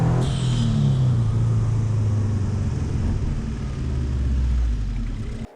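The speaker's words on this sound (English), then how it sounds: "that is the eBay fake turbocharger" A car fitted with a cheap fake turbocharger from eBay gives a loud, continuous engine rumble with a falling whine as revs drop, close and sustained before cutting off.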